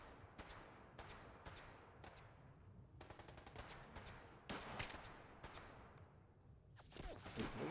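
Fallout 4 firefight at the Nuka World DLC: rapid bursts of automatic fire mixed with single cracking shots, faint and distant-sounding overall, repeating throughout with brief pauses.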